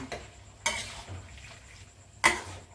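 Oily sizzling of pork rinds frying in a pan with a few sharp scraping strokes of a utensil stirring, two louder bursts standing out over a steady fry.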